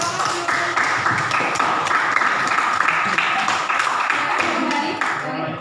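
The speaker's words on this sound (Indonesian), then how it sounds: "Tepuk tangan, tepuk tangan." A class of teachers in a training session claps together after a simple group game, a steady, dense applause that fills the whole stretch at close range before tapering slightly at the end.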